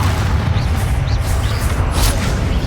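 A spell blast going off in the Hogwarts Legacy video game: a deep, continuous low rumbling boom over a dense battle bed, with a brighter burst of crackle near the end.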